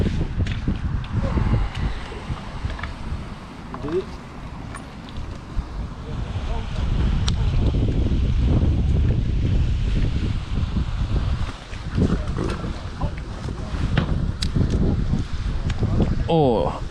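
Strong wind buffets outdoors at an outdoor event site in Belgium, a continuous rough roar with gusty surges, along with scattered rustling and handling bumps.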